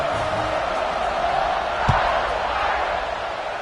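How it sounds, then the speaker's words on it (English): Football stadium crowd after a touchdown against Notre Dame, a dense steady roar of many voices filling the air, with a brief thump near the middle and no clear single voice. "this crowd is buzzing after that last score"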